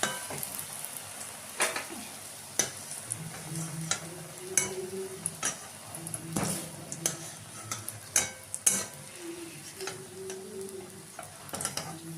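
Battered banana flower chops (mochar chop) fry in hot oil in a kadai, a continuous bubbling sizzle broken by frequent sharp ticks and clinks of a utensil against the pan.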